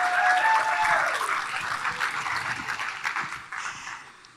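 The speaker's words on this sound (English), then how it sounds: "big round of applause for Linda Ruiz." A crowd applauds with dense, steady clapping that gradually fades, with a few brief whistles near the start.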